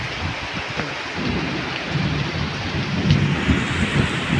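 Steady rain pours down close by, with a low rumble of thunder rolling underneath.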